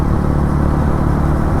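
A TVS Ronin 225 motorcycle engine rumbles loud and steady at close range, with a continuous low throb and no voices over it.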